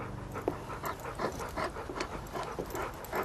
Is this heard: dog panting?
yes